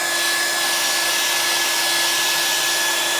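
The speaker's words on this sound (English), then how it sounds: "Some hair dryers are better than others." A hair dryer blows on 3M window insulating film, producing a loud, steady, close-up rushing whine that fills the entire stretch without pause.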